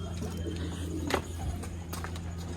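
Soft cooing of a pigeon pair with baby pigeons blends into a steady low hum, with a brief louder burst near the middle; faint voices murmur in the background.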